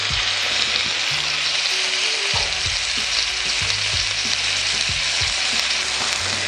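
Caramelized pork skewers grilling in a pan, a loud, dense, continuous sizzle and crackle of frying fat that stays steady throughout, close up with no talking.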